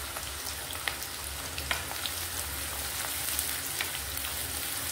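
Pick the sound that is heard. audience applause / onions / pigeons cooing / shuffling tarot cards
onions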